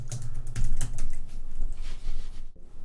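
Fast, close computer keyboard typing while writing Java code for a 2D game, a dense run of clicky keystrokes with a brief pause near the end.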